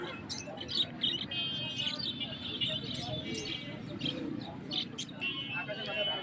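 Adult budgerigars, classic and lutino, chirp and tweet alongside fancy pigeons at the Nayabati pet-bird market in Khulna. The rapid, overlapping chatter is constant and close, with a busy market murmur and voices underneath.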